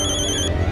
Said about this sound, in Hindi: एक मिनट, मेरा फोन बज गया।